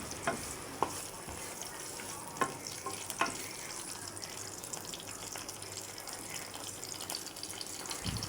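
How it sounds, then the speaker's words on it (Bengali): Cumin seeds frying in hot oil in a pan, a soft continuous sizzle and crackle with a few sharp pops and stirring clinks, close but faint. "অন্য একটি পাত্রে তেল দিয়ে দিয়েছি এবং জিরাটা লাল লাল করে ভেজে নেব"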